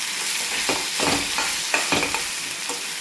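Spices for the tempering of mango pulihora fry in hot oil with a close, steady sizzle, while a spoon stirs and scrapes through the pan in several short bursts.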